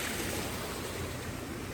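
Steady broadband rush of falling water from a waterfall on Tom Sawyer Island in Magic Kingdom's Frontierland, a continuous even wash heard on its own with no voices.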